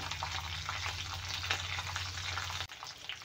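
Curry leaves frying in a hot pan of roasting moong dal chutney ingredients, giving a crackling, bubbling sizzle under a low steady hum that cuts off sharply near the end.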